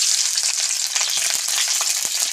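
Onion, garlic, leeks and beef frying in hot oil, a dense, steady sizzle filling the whole stretch at close range, with no voices over it.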